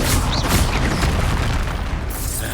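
The Expulso spell goes off in the Hogwarts Legacy video game, a loud, dense booming blast with crackling debris that fills the whole short clip at constant intensity and has no speech over it.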